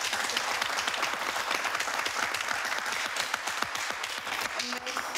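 Applause from an audience of students and guests at the opening of a televised evening event, a dense steady round of clapping filling the room for about five seconds, with a brief voice near the end.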